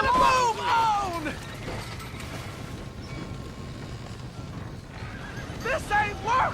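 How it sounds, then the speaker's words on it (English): Horses neigh and whinny loudly near the start and again near the end during a stable fire in the game Red Dead Redemption, with a low rumble of commotion and shouting voices in between. "Somebody get them horses out!"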